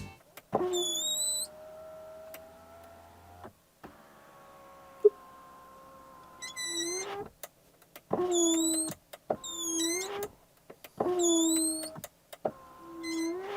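A Ferrari Purosangue's electric power window motor whirs in long runs, stopping and starting repeatedly, with sharp clicks and squeaky creaks as the glass reaches its ends.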